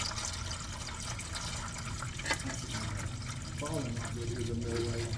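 Water drains and trickles out of a 1970 Dodge Super Bee engine in a steady, faint liquid stream, with a few drips, while people talk nearby.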